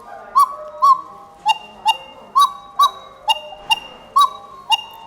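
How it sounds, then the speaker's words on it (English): A wooden-bellows cuckoo clock from the Black Forest sounds its two-note cuckoo call repeatedly, about five clear, evenly spaced pairs of hoots, close and alone with no talking. "what gives the cuckoo bird her voice are these bellows right over here, made out of wood"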